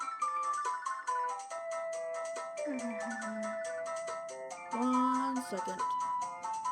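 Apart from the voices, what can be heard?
phone ringtone for an incoming call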